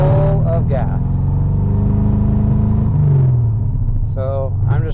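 A C4 Corvette with a gas-flooded oil pan runs with a steady deep rumbling idle and a couple of light revs, close and loud throughout, with someone talking over it.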